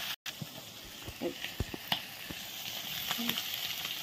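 Catla fish fries slowly in oil, giving a soft, continuous sizzle with a few light taps and clinks near the start that settle into a steadier hiss.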